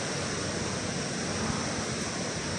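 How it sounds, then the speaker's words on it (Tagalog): Strong wind roars steadily across the microphone as a constant, dense rush of noise, with no break and no voices. "Sobrang hangin dito."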